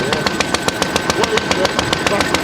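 Old stationary engine running steadily while charging a battery, with a regular rapid firing pulse repeating through the clip, close and fairly loud, with voices faintly around it.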